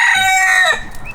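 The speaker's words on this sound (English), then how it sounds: "Very nice rooster." A rooster crows nearby, one loud strained cock-a-doodle-doo that breaks off after under a second, followed by a faint short chirp.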